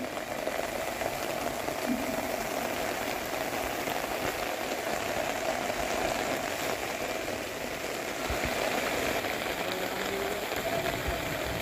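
Rain falls steadily outdoors among plants and flowers, a continuous even hiss of drops with no pauses across the whole stretch.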